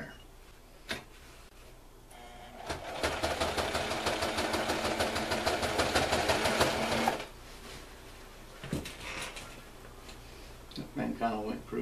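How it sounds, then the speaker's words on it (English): Sewing machine stitching a seam straight across a canvas haversack: a fast, steady mechanical rattle that runs loud for several seconds, framed by brief clicks and handling noises, with someone talking before and after. "I'm just going to be sewing it right straight across"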